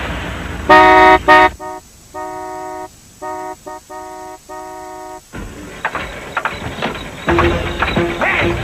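A car horn honks in a rapid series of short blasts, then several longer pulsed toots in an even rhythm, loud and near, followed by street noise and another horn near the end.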